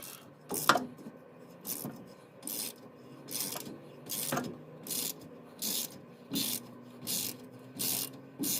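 A ratchet wrench backs out a 9/16 bolt on a 1954 Ford during brake and ball-joint work, making about ten regular rasping ratchet strokes that are close and clear, with no talking.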